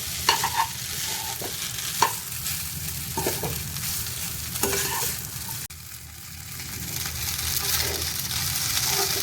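Semiya vermicelli frying on high flame, a steady sizzle with repeated scraping stirs of a spoon against the pan, close and continuous throughout.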